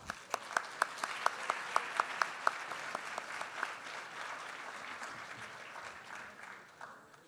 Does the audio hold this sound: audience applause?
yes